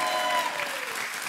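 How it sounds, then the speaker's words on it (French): Studio audience applause welcoming contestants onto the French TV dating game show Les Z'amours, a dense, steady burst of clapping from a crowd. "On vous applaudit, soyez les bienvenus."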